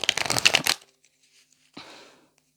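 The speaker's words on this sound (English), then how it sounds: "I'm going to shuffle some more cards for Scorpios" Two bursts of tarot cards being shuffled, a longer riffle followed by a pause and then a shorter softer shuffle, close up with no talking.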